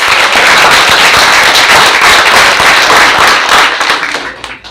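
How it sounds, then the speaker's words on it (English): A loud, dense burst of applause at a board of education meeting for the winning 8th grade team: continuous close clapping from a packed room that holds steady, then begins to thin and fade near the end. "let's give them a round of applause for their dominance"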